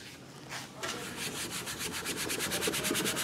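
Steady rhythmic rubbing of a cloth working an oil-based cleaning product into black plastic car trim to lift paint overspray, close and continuous with regular back-and-forth strokes and no talking.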